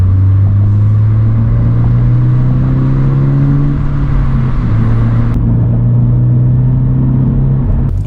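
A 2022 Subaru BRZ engine, heard from inside the car with active sound control enhancing it, revs hard under full throttle in a loud, steady droning climb, dipping briefly as it shifts, then pulling again.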